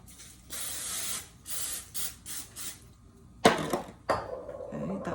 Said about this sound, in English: I'm going to spray a tin pan